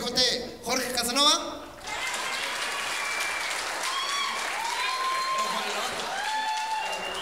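Audience applause at a stand-up comedy show follows brief talk and laughter, settling into steady, moderate clapping while a few voices and whoops rise over it.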